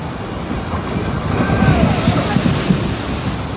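Water rushing and splashing on the Dudley Do-Right log flume ride at Universal Orlando, a loud, wind-buffeted wash of spray and surging water close to the microphone.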